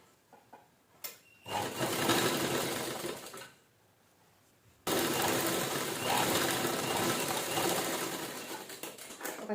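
Sewing machine stitching zipper lace onto a fabric pouch, a fast steady whirring run that stops briefly, then starts again and keeps going, close and loud, with a few small clicks of handling at the start.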